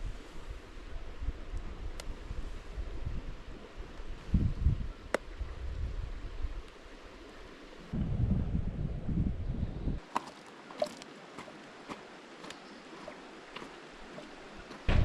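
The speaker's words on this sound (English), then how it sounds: "there's a pretty wicked northerly coming down the valley" A cold northerly wind blows down a valley in the New Zealand wilderness, a steady rushing buffet against the microphone with gusty swells and a brief lull. No one speaks.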